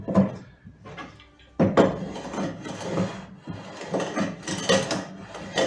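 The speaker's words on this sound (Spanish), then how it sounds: "vamos a checar qué tal jala nuestro cepillo. Cepillando." A hand plane being pushed along a length of mahogany, making several rough shaving strokes with short pauses between them, close and fairly loud, each pass a gritty scraping rasp.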